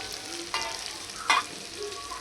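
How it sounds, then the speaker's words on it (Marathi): Bitter gourd fries in a pan with a constant close sizzle, broken by two brief stirring scrapes. "आता कारल्याला जरा फ्राय करताना तुम्हाला दाखवूया थोडंसं"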